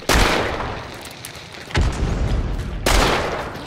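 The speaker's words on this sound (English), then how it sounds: "I don't understand where my shots are going" Three loud pistol shots from dual pistols in the online shooter Hunt: Showdown, each a hard boom with a long, rolling reverberant tail, spaced more than a second apart.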